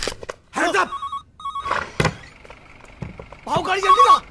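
A telephone rings in repeated short electronic bursts, with thuds and people talking between and over the rings.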